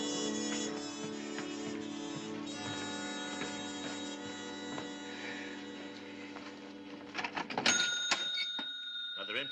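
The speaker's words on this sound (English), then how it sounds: "Another empty cash register." Radio drama sound effect of an old cash register in an 1881 Western setting: a burst of mechanical clatter and a bright ringing bell near the end, after a stretch of music with talk underneath.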